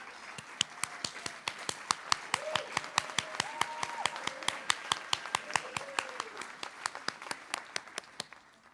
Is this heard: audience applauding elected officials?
yes